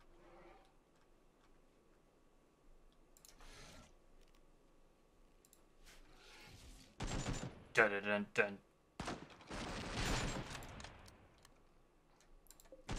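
Gunfire in the video game RimWorld crackles in short bursts, including shots from an AK-104, scattered sharp reports building into louder clustered volleys late, while a voice hums a rhythmic dun-dun beneath.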